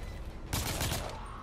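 A burst of gunfire in the video game The Order: 1886, a loud dense volley lasting about half a second over steady background noise, with no talk.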